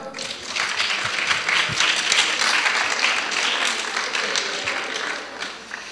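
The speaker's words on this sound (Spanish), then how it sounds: "Un aplauso." A crowd at a medical residents' event applauds loudly and steadily, dense clapping sustained throughout with a few sharper claps standing out near the listener.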